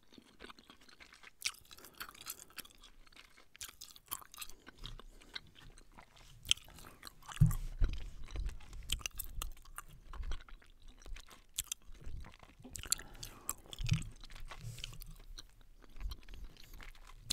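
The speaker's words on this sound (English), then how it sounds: "I have the Blue Raspberry Airhead gum in front of me" Blue Raspberry Airhead gum chewed close up: soft wet smacks and clicks in an irregular rhythm, louder near the middle, with no speech.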